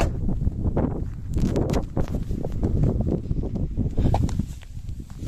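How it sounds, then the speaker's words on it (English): Strong outdoor wind buffets the microphone beside a street kerb next to a parked car, making a loud, constant low roar and rumble with gusty surges throughout. "It's a bit windy, so as soon as I step out of the car, you probably won't hear anything."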